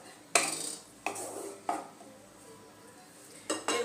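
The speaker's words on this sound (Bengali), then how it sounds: "ভালো মতো টক দইটা মিশিয়ে দেব" Sour yogurt being stirred into a pan of pointed gourd, a utensil clanking against the pan in a few sharp, separate knocks with quiet pauses between them, close and fairly loud.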